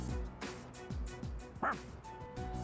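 A dog in the video game Persona 3 Reload gives several short barks and yips followed by a thin whimper, fairly faint and mixed with game background sound.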